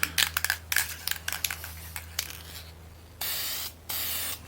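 An aerosol can of clear coat sprayed on an old car: quick rattling shakes first, then two steady hissing bursts of spray, close and loud, separated by a short pause.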